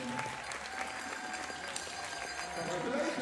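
A crowd claps steadily and densely through the whole stretch at a junior women's 50m rifle three-positions shooting competition, the applause sustained and fairly close with no pauses.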